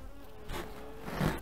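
Honeybees at an opened hive during a post-treatment inspection of a colony with some brood and few bees, giving a soft, steady insect buzz that swells slightly toward the end, close and fairly faint.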